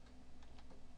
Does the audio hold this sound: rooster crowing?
no